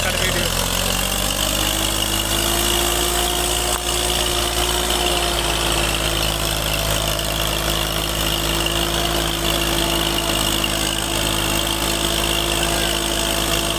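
A loaded tractor engine runs at a steady idle-like drone, loud and close with constant vibration and no breaks.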